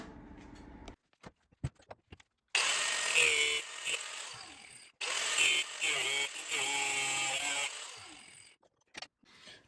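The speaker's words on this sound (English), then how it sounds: "I'm just going to bore this out internally so that this will slip through nicely, and this becomes a bushing." A power drill bores out the inside of a rod to turn it into a bushing for a Husky adjustable-height workbench, running in two loud whining bursts of several seconds each, with short clicks and handling noise between them.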